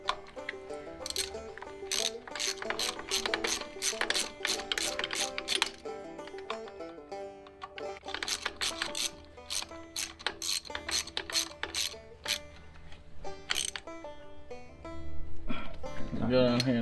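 A ratchet tightens bolts on a P7100 injection pump during a Cummins 12-valve swap into a Ford F450, giving quick runs of sharp clicking in several bursts with short pauses, and some talk is heard.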